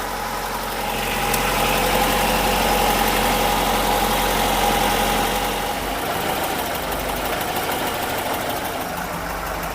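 A Wartburg 1.3 car engine idles steadily while warming up, a continuous close mid-pitched rumble with faint vibration and no speech.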